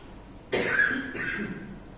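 Two quick coughs, close and fairly sharp, separated by a short pause against a quiet background.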